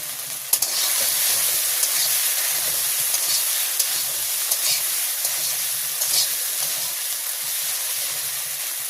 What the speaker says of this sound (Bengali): আমি মশলার ভিতরে আলু দিয়ে কষাই নিতেছি।